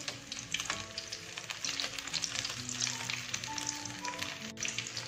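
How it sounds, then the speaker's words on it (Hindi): Potato tikki patties fry in a pan on medium heat, a close, dense bubbling sizzle with a few light taps and clicks scattered through it. "और मीडियम आंच पे हमने इसको तकरीबन 4 से 5 मिनट फ्राई किया।"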